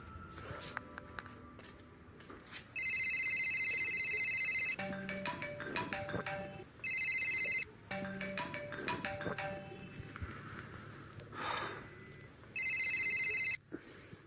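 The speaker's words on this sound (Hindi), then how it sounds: "फोन क्यों नहीं उठा रहे?" Phone ringtone in a home, sounding in three loud repeated bursts separated by quieter room sounds, fairly close.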